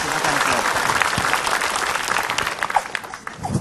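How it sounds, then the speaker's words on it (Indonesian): Audience applause for a preacher on an Indonesian Islamic television program, a dense steady clatter of many hands that stays loud throughout, with some crowd noise and speech mixed in. "Tepuk tangan buat Ustaz Cecep Maulana, silakan."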